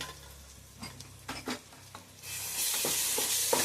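Ginger garlic paste frying in oil for a goat head curry: a few scraping stirs of a spoon in the pan, then a loud, steady sizzle that swells and holds close up.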